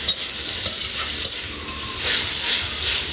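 A vegetable dish fries and sizzles in a pan for breakfast, a steady bright hiss with a few stirring scrapes and clinks, close and alone without talk.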